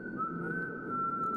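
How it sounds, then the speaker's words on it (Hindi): A man whistles a single sustained high note during a street confrontation, steady and clear for over a second against a low murmur of background noise. "सीटी बजा रहा है।"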